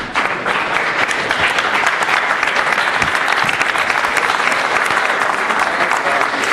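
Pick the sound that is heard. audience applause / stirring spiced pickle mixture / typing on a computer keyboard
audience applause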